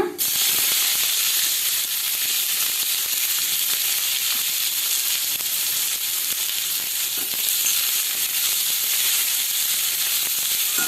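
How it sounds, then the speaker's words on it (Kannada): Chopped onion hits hot oil for a Kannada hesarukalu palya and sizzles loudly and steadily after a sharp start, a bright continuous hiss with faint crackles and no voices. "ಇವಾಗ 1 ಗಡ್ಡೆ ಆಗುವಷ್ಟು ನಾನು ಈರುಳ್ಳಿಯನ್ನು ತೆಗೆದುಕೊಂಡಿದ್ದೀನಿ, ಅವನು ಸೇರಿಸೋಣ"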